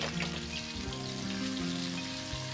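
Garlic sizzles in hot oil in a steady, continuous crackle with fine spattering pops, close and alone.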